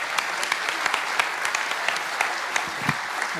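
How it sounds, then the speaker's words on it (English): An audience at an esports grand final for the FIFA Interactive World Cup 2015 applauds steadily, a dense, continuous wash of clapping from a large crowd with a few sharper claps standing out. "please give another round of applause"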